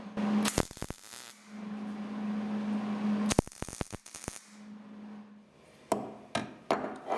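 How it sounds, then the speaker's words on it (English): Shims tapped with a hammer onto an angle iron bracket for a Jeep XJ Cherokee rear bumper, short bursts of sharp metallic taps separated by a low steady hum, close and fairly loud. "These shims were then tapped to the angle iron bracket"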